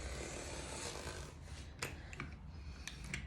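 A circle cutter blade is drawn around a 6 inch circle in paper, giving a soft continuous scraping rasp close by with a few brief sharper scratches toward the end.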